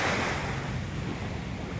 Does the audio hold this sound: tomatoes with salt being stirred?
no